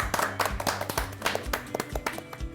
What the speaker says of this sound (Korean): 크게 박수 한번 치면서